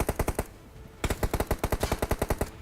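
Rapid bursts of automatic gunfire from a BGMI match, a quick string of shots, a short pause, then a longer steady volley, fairly distant and without talk.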